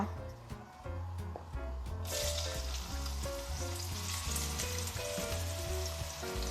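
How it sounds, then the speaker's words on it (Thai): Shiitake mushrooms stir-fried in a pan for a vegetarian festival cabbage and tofu soup: a soft sizzle swells into a loud, steady frying hiss about two seconds in, over low, steady tones. "เราจะผัดเห็ดหอมก่อนนะคะ"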